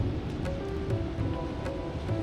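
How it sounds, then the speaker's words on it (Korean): Gentle ocean waves wash steadily onto Haeundae beach in Busan on a drizzly day, a soft continuous surf with faint wind and no talking. "촉촉한 공기와 잔잔한 파도 소리가 마음까지 적셔주는 이 순간 함께 나누고 싶어요."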